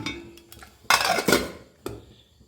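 A metal pot holding boiled jackfruit seeds is opened, with a few loud, close metallic clanks and scrapes of the lid, then a quieter final knock.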